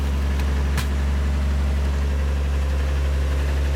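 A Chevrolet DeLuxe engine idles smoothly and steadily, a low, constant hum heard close up with one brief click partway through and no voices.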